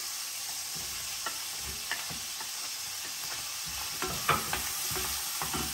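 Garlic and onion sautéed with smoked meat in a pan produce a steady close sizzle, with irregular clacks and scrapes of stirring throughout and no voices.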